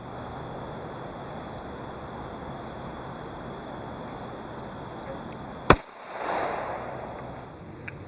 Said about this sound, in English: Let's take this out, shoot it through some ballistics gel.